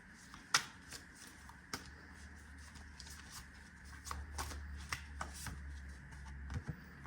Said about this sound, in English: Now I'm going to go ahead and pull the cosmic reading cards.